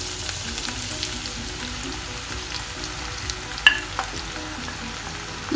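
Chopped bitter gourd, seeds removed, tossed into sautéing onions in a pan, giving a steady frying sizzle with scraping stir strokes and a couple of sharper clacks toward the end, no voices.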